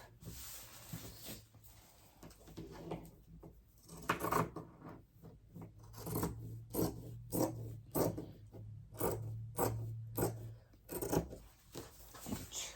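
Scissors or sewing shears snip through fabric while trimming the pockets of pajama pants, a quiet, close run of short crisp cuts in an irregular rhythm, with rustling cloth and no talk.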